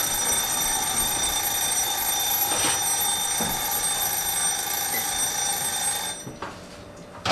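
Kitchen timer going off after baking, a steady bright electronic ringing that holds for several seconds without pause, then cuts out abruptly, close and loud, with no voices.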